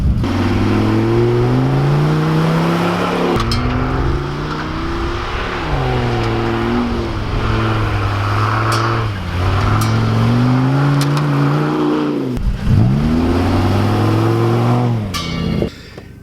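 A vehicle on BFGoodrich T/A KM3 winter tires accelerates hard in two-wheel drive, its engine revving up and falling back repeatedly in loud rising sweeps, with no talk over it.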